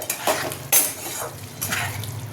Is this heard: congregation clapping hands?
no